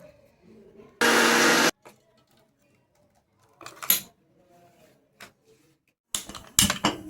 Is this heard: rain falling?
no